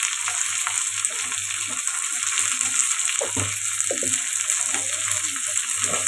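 Chopped tomatoes and salt go into sizzling amaranth dal in a pan, with a loud, continuous frying hiss, stirring scrapes and clatters, and a low steady hum, and no clear talking.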